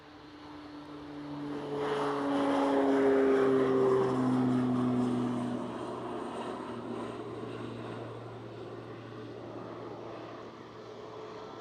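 A Ryanair airliner takes off during evening plane spotting, its engine roar swelling to a loud peak with droning tones before easing into a steady, more distant rumble.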